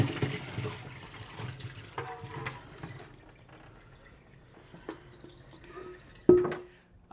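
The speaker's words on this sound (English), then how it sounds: "Before I do that, though, I'm going to drain them from this water." Boiled potatoes being drained of their cooking water in a kitchen, with soft pouring and dripping water, quiet and close, ending in a brief louder splash or clatter.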